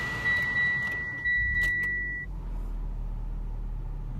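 A 2017 Mitsubishi Lancer is started with a key: a chime beeps for about two seconds, the starter cranks briefly, then the engine settles into a low, steady idle close by.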